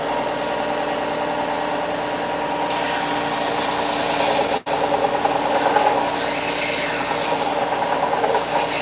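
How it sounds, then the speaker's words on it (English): Continuous sanding on a piece of wood being rounded with a power tool in a workshop, a steady loud abrasive whir that briefly cuts out midway and then resumes, with brighter rasping as pressure varies. "So I'm gonna sand this guy down and try and make this round now."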